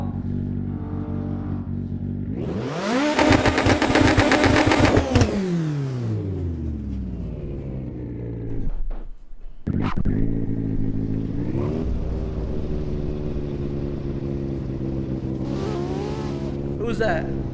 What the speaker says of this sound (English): Can't hear you over this fucking engine